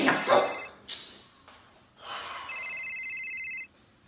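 Telephone ringing in a comedy sketch, a steady electronic warble that follows breathy gasps and snorts, fairly loud and close before cutting off.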